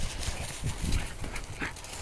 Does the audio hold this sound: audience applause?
no